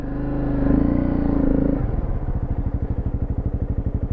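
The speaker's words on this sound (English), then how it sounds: "I think it's a CBR 250 engine in these CRFs" A Honda CRF dual-sport motorcycle, fitted with a CBR 250 street-bike engine, labours on a hill climb: a loud, close drone that drops into a slow, lumpy chugging as the engine bogs at low revs.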